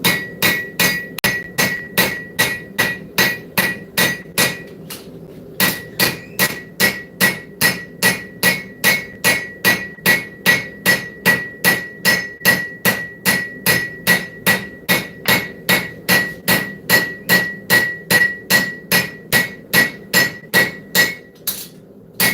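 A steady series of loud, evenly spaced hammer blows rings out in a forge shop, roughly two strikes per second with bright metallic ring, pausing briefly once before resuming, no talking.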